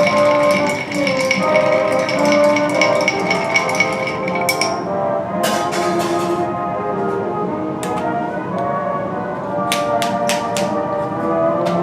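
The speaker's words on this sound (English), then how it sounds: "we're going to stir it as opposed to shake it." Ice clinks and taps rhythmically against a mixing glass as a Sazerac cocktail is stirred with a bar spoon, steady close ringing ticks with a few sharper accents, no voices.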